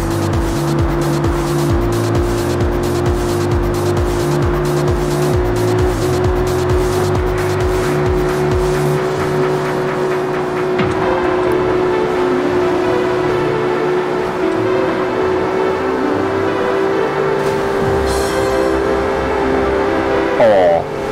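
Ferrari 458 Italia engine in the racing game Need for Speed Rivals, a steady loud high-revving drone with rhythmic pulsing early on and tire squeal mixed in, running continuously through the whole stretch.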